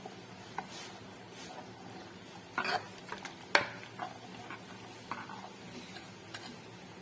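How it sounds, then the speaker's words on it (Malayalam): Kerala-style roasted-coconut chickpea curry stirred in a pot, a few soft scraping clinks of the spoon against the metal at intervals over a quiet low hiss, with no voices. "ഇനി ഇത് കറി ഒന്ന് ഇളക്കി കൊടുക്കാം."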